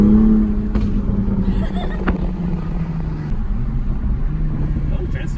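A Toyota A90 Supra engine with an automatic throttle-blip downshift drones steadily from inside the car, with a couple of brief sharp blips over the hum.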